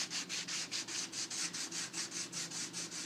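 A curb-rashed alloy wheel rim being hand-sanded with 320-grit sandpaper, in quick, even back-and-forth strokes, about four or five per second. The rasping is close and steady, with no voices.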